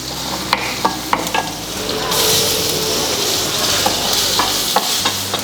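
Asafoetida powder, three dried red chilies and crushed garlic sautéing and being stirred in a hot pan, a steady close sizzle with scattered clinks and scrapes of a spoon against metal, no talking.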